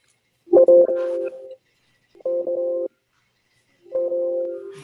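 Telephone ringing indoors during a commission meeting, three electronic tonal bursts separated by pauses, fairly clear and close, with no talk.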